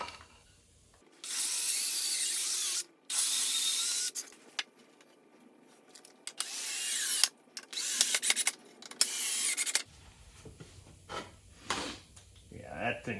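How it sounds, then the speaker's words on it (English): A power drill bores halfway into wood to countersink screws while building a wooden queen castle mating nuc, heard as several loud, close bursts of whirring separated by short pauses and handling noises. "I'm going to drill about halfway through this thing, and so the screws would catch really good"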